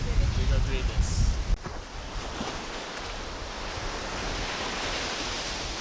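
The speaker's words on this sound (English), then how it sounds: "I just now take a dip in the sea." Sea waves wash steadily onto a Tobago beach in a broad, continuous roar with wind buffeting the microphone. A brief low voice is heard near the start.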